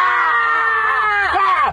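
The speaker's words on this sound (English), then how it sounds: "Stop all that damn screaming." A woman screams in a long, high, sustained wail that wavers and bends downward near the end, loud and close, with no other speech over it.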